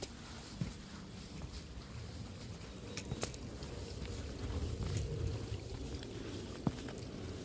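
Steady broadband rush of a mountain stream on Cheonggyesan in Seoul running nearby, with occasional faint clicks and wind buffeting, no talking.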